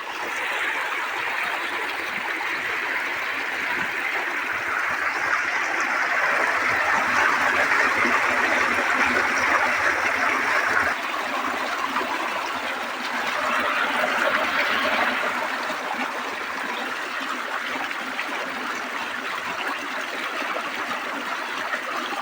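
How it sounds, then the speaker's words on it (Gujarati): Irrigation water running through a channel in a village farm field in Gujarat: a continuous, fairly close gurgle and rush of flowing water that swells slightly midway, with no talk. "પાણી ચાલુ થઈ ગયું બરાબર"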